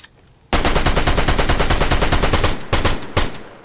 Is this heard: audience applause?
no